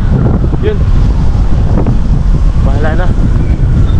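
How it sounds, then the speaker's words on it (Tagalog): Cold wind gusts through Alexandra Gardens, a city park in Melbourne, in summer. It roars loud and steady against the microphone, with faint bird calls underneath. "Mahangin na malamig."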